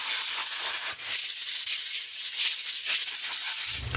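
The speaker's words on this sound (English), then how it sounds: "let's give it a quick blow. Touch of low pressure air" Continuous loud hiss of low pressure compressed air blowing over a Briggs 5hp horizontal flat head engine, close and steady for four seconds with one brief dip, no talk.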